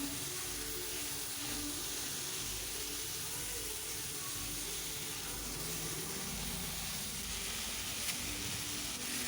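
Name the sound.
pumpkin frying in little oil while being stirred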